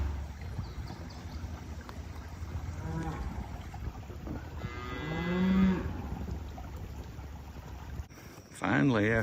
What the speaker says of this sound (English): we find the black white-faced cow and her new baby